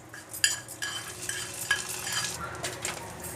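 Vegetables sautéing in ghee with kasuri methi for multigrain upma: a soft sizzle with scraping stirs and light clinks of a spoon against the pan, close and fairly quiet.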